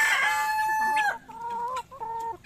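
A Padovana rooster crows in a farmyard, a loud, close, drawn-out call followed by shorter clucking phrases with brief pauses, and no talking.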